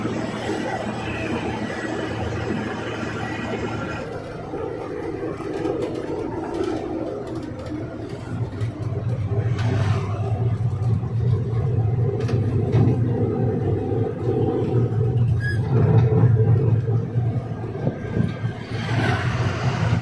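A loaded truck drives along a road in Kerala with a low engine rumble and road noise that grows louder partway through, and faint chirps and passing sounds come from outside.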